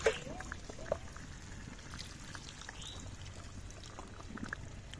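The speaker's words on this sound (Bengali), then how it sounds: "এটা আমি এই সময় দিয়ে দেবো মশলা ধোয়া জলটাই দিয়ে দেবেন" Spice-rinsing water poured into a pot of chicken cooking in curd, a faint, brief splash and trickle heard close in a quiet kitchen.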